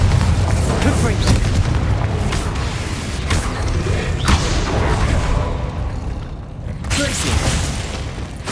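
Confringo, Incendio and Bombardo spells go off in Hogwarts Legacy on PS5 as a dense, continuous run of booming blasts and fiery bursts, loud throughout, with a voice calling out over the effects.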